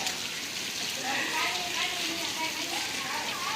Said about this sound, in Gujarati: જો કેવો વરસાદ પડી ગયો છે ને પાણી જાય